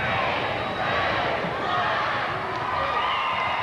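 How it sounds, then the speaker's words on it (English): A basketball arena crowd roars steadily through the final seconds of a Goodwill Games matchup between Australia and New Zealand in Brisbane, a dense, sustained wash of voices without clear individual words. "Final seconds. Crowd is counting it down."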